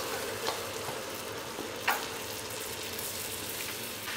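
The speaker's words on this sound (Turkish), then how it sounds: "Hızlıca karıştırıyorum." A 200-gram pack of cream is stirred quickly into melted butter in a pan, making a faint, steady bubbling sizzle with occasional light utensil taps.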